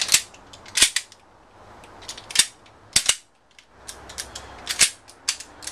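A gas airsoft gun fires weakly on butane instead of green gas, making a series of sharp, snappy clicks and pops, loud and close, with uneven pauses between about a dozen shots.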